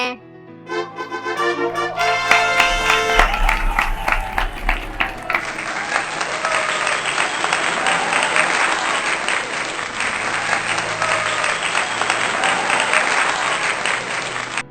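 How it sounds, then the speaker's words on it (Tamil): A circus audience bursts into loud, sustained applause, dense clapping that rises after a brief musical flourish and keeps going steadily to the end. "பாத்துட்டு ஜோரா கை தட்டுங்க"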